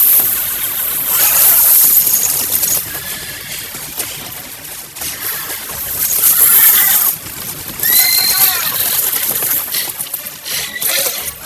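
Several horse whinnies in a scene from the TV drama The Witcher rise over a dense, noisy background of rumble and hiss, a few calls standing out in the middle and later part.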